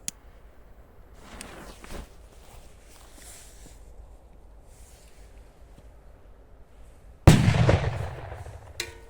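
After quiet outdoor background, a single loud Achtung 5G firecracker blast booms close by, its echo rumbling and trailing off.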